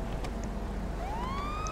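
A police car siren in the video game GTA V, a faint rising electronic wail that sweeps upward over a low steady engine drone in a short burst.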